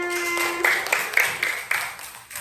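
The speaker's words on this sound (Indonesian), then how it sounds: "Tepuk tangan." Children in a second-grade classroom clap their hands in a short burst of several sharp, rhythmic claps after a sustained tone, fairly close and without talk.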